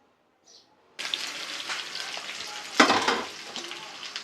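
After a near-silent start, chickpeas hit hot oil with dried chillies and begin a steady, close sizzle, with a louder burst of stirring about two seconds later.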